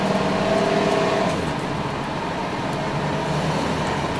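A Ford U-Haul 14-foot box truck engine drones loudly from inside the cab, pitch steady and then dropping slightly as it downshifts, with constant road noise and no talk.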